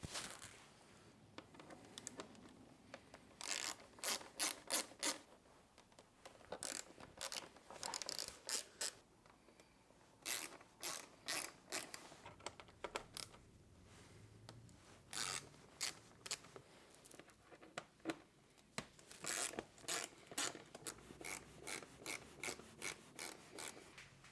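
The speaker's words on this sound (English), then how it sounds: "So first job, undo these screws and get the fairings off." Screws being undone to remove the fairings from a Ducati Panigale motorcycle, heard as quiet bursts of rasping, ratchet-like scraping in repeated runs with short pauses between.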